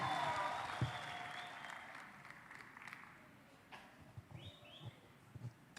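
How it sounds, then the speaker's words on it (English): Applause from the audience at a Cavendish University Uganda graduation ceremony, fairly distant clapping that fades out over several seconds, leaving quiet room noise, scattered footsteps and faint chirps, ending with a sharp thump. "You can clap for yourselves and take a seat."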